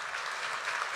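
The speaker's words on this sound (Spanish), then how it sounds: "Fuerte el aplauso, Darío Stanraiver." An audience applauding after a book fair presentation in Berazategui: steady, dense clapping from a crowd that fills the whole moment at an even level.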